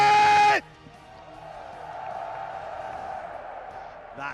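An arena crowd at the Evo 2024 fighting-game grand finals swells into a sustained roar of cheering after an announcer's loud voice cuts off, the noise broad and distant-sounding.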